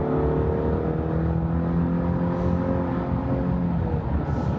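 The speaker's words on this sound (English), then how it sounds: "behind the wheel of the 24 Colorado here with the TurboMax engine merging onto the highway" A 2024 Chevy Colorado Z71 pickup with the TurboMax turbocharged engine accelerates onto a highway, a steady droning engine note with rising harmonics heard from the cabin, joined by road and wind noise.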